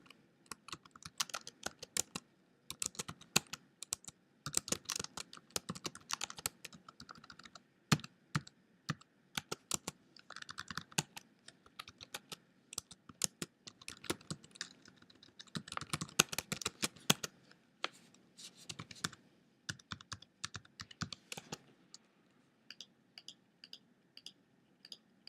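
Keys clatter on a computer keyboard in quick irregular bursts with short pauses, close and fairly quiet, with no voices over the typing.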